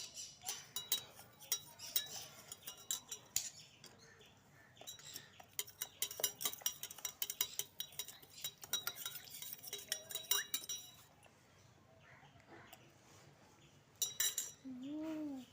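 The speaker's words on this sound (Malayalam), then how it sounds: "ഇളക്കാം." A spoon stirring water in a glass for a homemade lemon drink: bursts of rapid, bright metallic clinks against the glass, pausing briefly and then resuming, fairly quiet and close.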